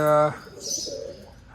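Pigeons coo softly around a newly built pigeon loft setup, low murmuring calls heard faintly behind a brief voice at the start.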